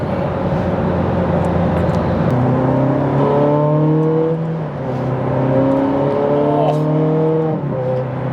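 A 2008 Ferrari 430 Scuderia engine revs hard with its exhaust bypass open, climbing and dropping through repeated loud, close sweeps. Someone talks over part of it.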